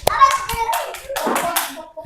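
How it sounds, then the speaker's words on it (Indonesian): A group of young children in a classroom clap their hands in quick bursts, about eight sharp, close claps in a loose rhythm, with children's voices calling out between them. "Oke, tepuk tangan"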